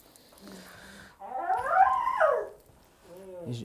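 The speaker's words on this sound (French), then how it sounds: "T'as vu, il est expressif, ce chien." A dog lets out a drawn-out, wavering howl that rises and falls, with short whining yelps before and after it.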